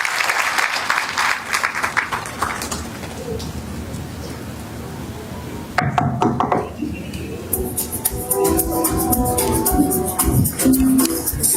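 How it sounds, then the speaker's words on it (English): Audience at a school of medical and health sciences graduation applauds a speech with dense, sustained clapping that fades midway, then swells again with cheering voices and ululating calls. "Can we do a better clap for this guy?"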